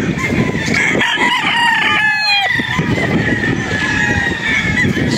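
Several tied roosters crow on a farm in Padre Garcia, Batangas, overlapping calls near and far over a busy background of clucking fowl and faint human voices.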